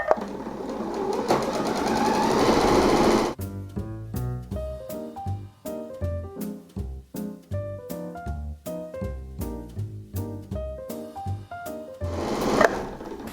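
A sewing machine runs on a table, first as a dense whir and then as a steady, rapid mechanical clatter of needle and motor, close and continuous with no speech.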